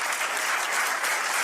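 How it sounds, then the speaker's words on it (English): A crowd at the National Press Club gives lukewarm applause, a brief, even patter of clapping that holds steady and close without cheers or speech. "What a lukewarm, tepid pseudo clap."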